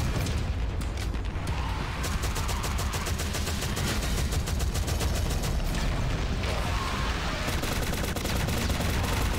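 Continuous gunfire in the video game Shadowgun Legends, sustained automatic shooting and booms roaring without pause, loud and dense throughout.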